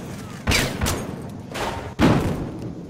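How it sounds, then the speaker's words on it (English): Gas grenade thrown during a Battlefield Hardline match, two sharp bursting pops with hissing spray about a second and a half apart, close and loud over a busy game background. "Throwing gas grenade!"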